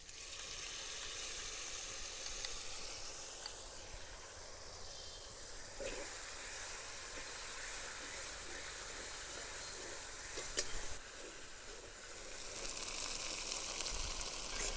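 Spice paste and browned onions fry for a snail curry in a pan, giving a long, continuous sizzle and hiss that stays steady and close, with a few small clatters and a louder surge of frying near the end.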